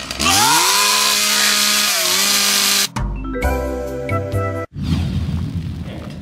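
Chainsaw running loud and close for about three seconds, its engine pitch sliding as it revs, then cutting into abrupt bursts of other loud sound in a comedic awards-night montage.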